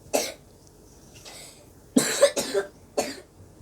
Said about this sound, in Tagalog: pasensya na po na may nag-ubo